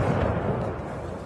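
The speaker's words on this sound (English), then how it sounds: "Ukrainians woke to explosions lighting up the dawn sky" Explosions from missile attacks on key targets in Ukraine at dawn, a loud, continuous rumbling blast that fills the short clip.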